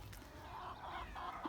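Chickens cluck softly inside a chicken coop in a permaculture food forest garden, faint, low murmuring calls heard up close without any talking.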